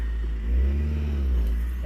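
A stuck car's engine revs hard in low, steady rumbling bursts, swelling in the middle as the car tries to roll forward.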